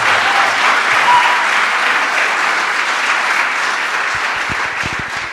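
Sustained applause from a panel audience, a dense, even wash of many hands clapping that stays loud throughout and thins slightly toward the end, with no talking over it.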